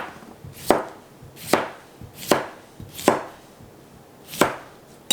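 A knife slicing a cucumber for fermented pickles, five crisp separate chops on a board at an unhurried, even pace, close and clear with no voices.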